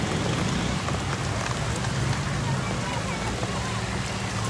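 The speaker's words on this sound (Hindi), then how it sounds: "तो कराची में बारिश शुरू हो चुकी है" Rain falling in Karachi, a steady broadband hiss of drops on surfaces with a low rumble underneath, continuous and even throughout, with no clear voice on top.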